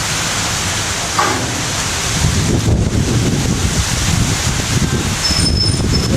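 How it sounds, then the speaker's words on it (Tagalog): Loud, blustery wind roars continuously with a hissing wash like heavy rain, rumbling against the microphone throughout. "Unti-unti nang lumalakas yung hangin at yung ulan."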